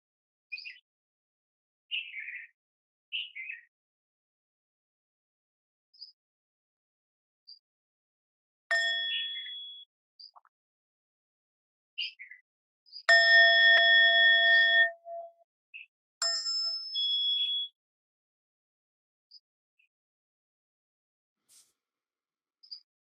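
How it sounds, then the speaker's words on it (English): Two struck meditation bell tones at the close of a guided meditation, each a clear ringing strike with a sustained shimmering decay, separated by a few seconds of quiet; a few faint soft ticks and small sounds are scattered around them. "when you open your eyes, after 2 sounds of the bell"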